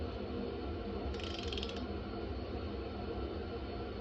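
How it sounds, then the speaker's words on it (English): Ratchet clicking briefly as it loosens a bolt on a Road King motorcycle, a quick run of faint clicks over steady background noise in a workshop. "put this bad boy on a ratchet, and we're going to try to break this bad boy all the way the rest of the way loose"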